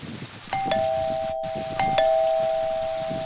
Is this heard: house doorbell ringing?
yes